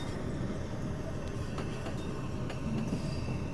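An M2 commuter train in Train Simulator 2020 runs steadily over the rails on the New Canaan Branch, a continuous low rumble with faint periodic clicks and no talking.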